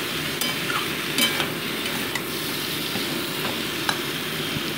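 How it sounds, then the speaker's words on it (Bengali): Pumpkin and potato frying with spices in a pan for a prawn curry, a constant close sizzle broken by a few light scrapes of a spoon. "কুমড়োগুলোকেও আলুর সাথে ভালো করে আমি কষিয়ে নিচ্ছি মশলার সাথে"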